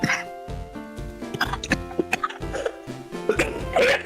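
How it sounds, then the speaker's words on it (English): Someone coughs in a string of short, close bursts after laughing, under a bed of game music. "I laughed and therefore I started coughing"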